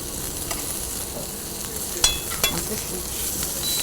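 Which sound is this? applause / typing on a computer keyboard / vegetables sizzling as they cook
vegetables sizzling as they cook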